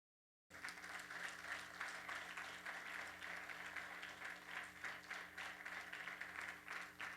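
After a short silence, a congregation at a church service breaks into steady, continuous applause that stays even and fairly faint, as though heard from a distance, with no break for the rest of the clip.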